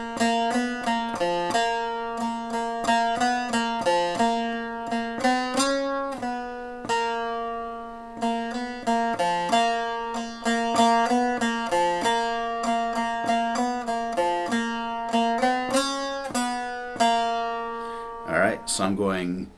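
A baglama saz picks out a slow, deliberate riff with distinct plucked notes and clear pauses between phrases, close and solo with no talking, ending in a quick strummed flourish.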